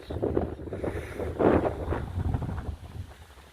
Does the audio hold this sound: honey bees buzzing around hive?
no